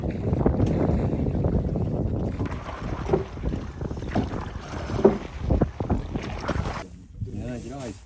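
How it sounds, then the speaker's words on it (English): Oars work a wooden replica of an early 1900s Dutch fishing boat, with irregular splashes and knocks against wind noise on open water, and faint voices near the end. "in the absence of wind, you have to row."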